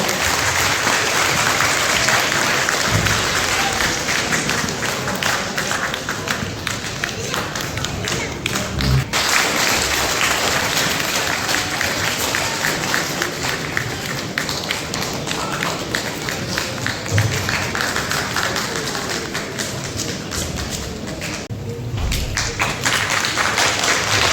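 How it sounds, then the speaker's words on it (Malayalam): Sustained audience applause fills a felicitation ceremony honouring the Mayor of South Dublin County Council, a dense, steady roar of clapping hands that carries on for over twenty seconds with a few duller thumps scattered through it. "എല്ലാവരും നല്ലൊരു ക്ലാപ്പ് കൊടുക്കാം"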